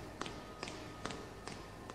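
Thumping sound effect in a Filipino horror story narration, four evenly spaced dull thuds roughly every 0.4 seconds over a low steady background, with no voice over them.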